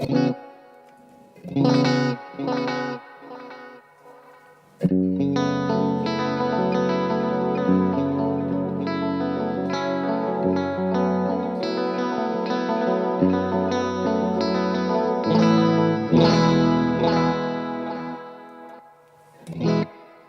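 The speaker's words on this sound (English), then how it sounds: "there is some reverb and the delay comes in the other preset" An electric guitar plays chords and single notes drenched in reverb and echoing delay, with pauses where the ringing trails off.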